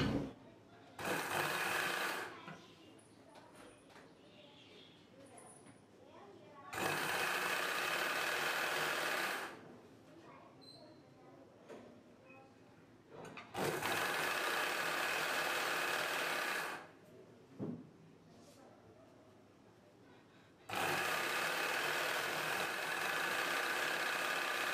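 A sewing machine stitches a saree petticoat in four separate bursts of steady whirring motor and needle chatter, each lasting a few seconds, with quiet gaps and faint handling noises between runs.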